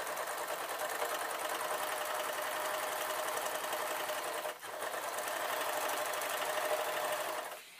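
A sewing machine stitching the armholes of an off-the-shoulder dress runs in a fast, steady close-up whir for several seconds, pausing briefly midway before resuming, with no talk.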